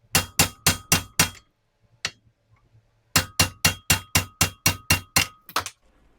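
A hammer strikes an impact socket to drive out a Honda Civic ball joint, with a quick run of five sharp metallic whacks, a pause with a couple of light taps, then about nine more rapid ringing blows, close and loud.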